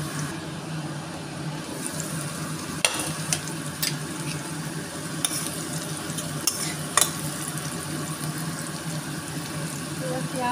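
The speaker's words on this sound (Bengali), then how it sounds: "ঢাকা খুলে মাঝে মধ্যে পেঁয়াজটা নাড়িয়ে নেব" Onions frying in a pan for mutton curry, a steady loud sizzle with a few sharp spoon scrapes and clacks against the pan as they are stirred.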